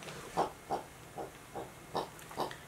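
A dog's squeaky pig toy gives short grunting squeaks, six in a row at a fairly even rhythm, quiet and close with no talking.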